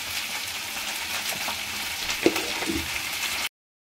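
Chicken feet with ginger-garlic paste, chilli, turmeric and coriander sizzle and crackle in a frying pan while being stirred, a close, continuous frying hiss with a few spoon knocks before cutting to silence.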